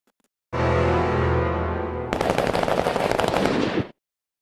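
Gunfire in a film execution scene: a sustained roar gives way to a rapid, dense burst of machine-gun-like shots, loud and close, with no talk.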